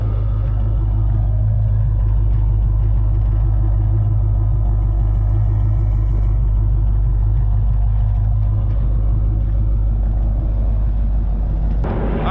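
A car engine idles steadily, a deep, even rumble that holds constant close by with no talking and no change in pace.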